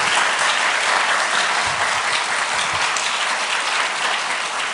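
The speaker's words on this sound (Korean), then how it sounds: "축하의 박수 한번" An audience at a church pastor's installation ceremony in Pohang claps in congratulation, a dense, steady burst of applause filling the room for several seconds without a break.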